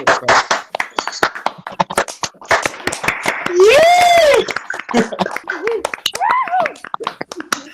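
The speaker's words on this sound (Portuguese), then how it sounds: "a gente dar os aplausos aí para o grupo do João" Participants in an online sociology webinar clapping for João's group, scattered uneven hand claps through open microphones, with a voice calling out and others speaking over them.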